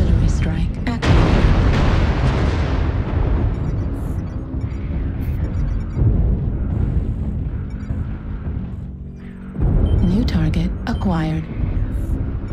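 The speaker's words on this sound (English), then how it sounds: "Artillery strike activated." Artillery strike explosions in a video game, a loud sustained barrage of booming blasts that stays dense and rumbling throughout, with a fresh burst near the end under a voice talking.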